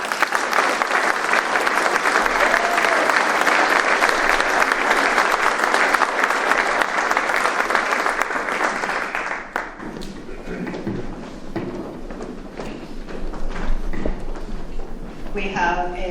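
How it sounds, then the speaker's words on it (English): Audience applause at a public safety recognition ceremony, loud and sustained clapping from a crowd for about ten seconds that then thins out into scattered claps and murmuring. "I think we need a round of applause for..."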